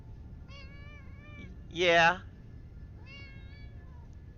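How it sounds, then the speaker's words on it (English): A pet cat meows close by, one longer, louder meow standing out among softer vocal sounds, with a person saying a brief word nearby. "I have a kitty cat."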